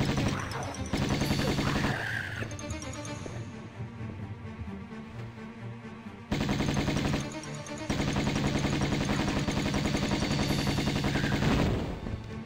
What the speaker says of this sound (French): Il y a un peu trop de tirs croisés.